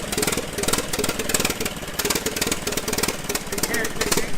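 A Massey Harris Pacemaker 12-20 Orchard tractor engine runs close by with a steady, rapid knocking beat, loud and continuous throughout.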